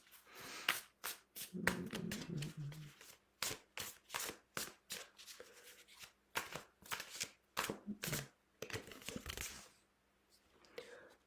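A deck of tarot-style cards is shuffled for a reading, a close run of crisp riffling bursts with short gaps, with faint speech in the background.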